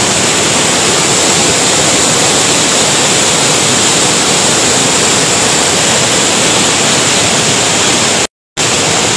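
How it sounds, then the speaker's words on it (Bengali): Strong floodwater pours through a breached embankment in Paschim Medinipur and over a football ground, making a loud, continuous close-up roar of rushing water with one brief cut near the end. "দেখুন গ্রাউন্ডের ওপর দিয়ে জল বেরিয়ে যাচ্ছে। কি প্রবল স্রোত।"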